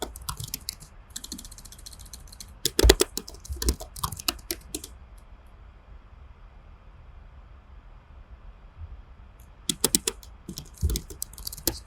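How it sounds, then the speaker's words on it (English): Fingers type on a computer keyboard at a terminal, with bursts of quick clattering keystrokes near the start, a quiet gap in the middle, then another short flurry and a few scattered key taps. "Type the password again."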